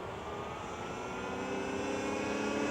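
An RFN SX-E15 Plus electric dirt bike passes at half throttle, its motor giving a steady rising whine and hum that grows slightly louder as it approaches, with no speech.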